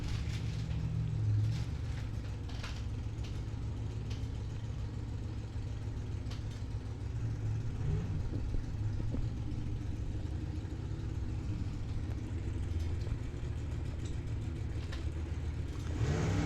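Drag racing cars, one a '79 Ford Mustang, at a bracket-racing dragway, heard as a steady, loud engine drone and rumble throughout with a continuous roar and no clear pauses.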